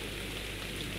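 Steady, dense rain in the video game ARK Survival Evolved, a continuous hiss of falling drops with no talking.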